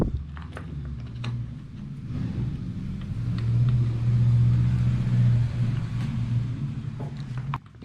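An MJX 10208 RC car fitted with the biggest upgraded motor runs alone, its low hum steady, then swelling louder midway before easing off, with faint clicks scattered over it.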